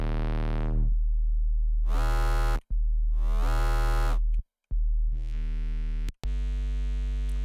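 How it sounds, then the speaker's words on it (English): A synthesizer plays a deep, heavy tone in long sustained notes with brief gaps between them, the sound growing brighter and buzzier at times. "So this is just the sine wave."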